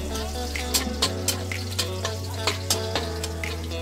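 Garlic sizzling in oil in a pan for Filipino ginisang ampalaya, a steady close frying hiss with light scraping strokes of a spatula at a regular pace.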